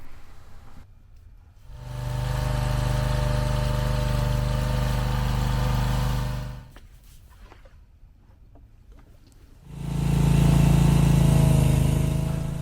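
A rented stump grinder's engine drones steadily at close range, drops to a quiet low rumble for a few seconds, then surges back louder, with no talking.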